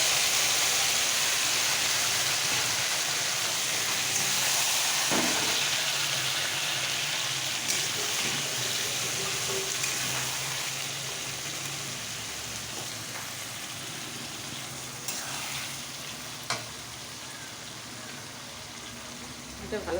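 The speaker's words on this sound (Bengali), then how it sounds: "ম্যারিনেট করা মটনটাকে আমি এবার দিয়ে দেবো" Marinated mutton hits hot fried onions in a pan, giving a steady broadband sizzle that runs throughout and fades slightly over time, with a few sharp spits and crackles.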